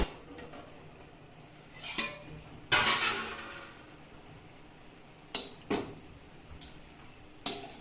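The lid of a cooking pot holding a bean stir-fry is lifted off. Scattered metallic clanks and clinks ring out, one louder rattling knock among them, over quiet kitchen background.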